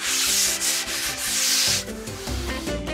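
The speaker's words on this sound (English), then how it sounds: "he sands it back by hand, giving each board its unique shape" A surfboard is hand sanded in a shaping workshop, with long, loud, rasping strokes of sandpaper rubbing across the board in a slow back-and-forth rhythm, close and alone, without talk.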